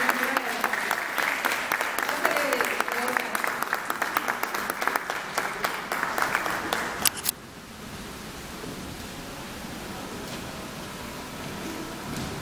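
An audience claps at the unveiling of an original artwork, a dense, steady applause for about seven seconds that cuts off abruptly into quiet room tone.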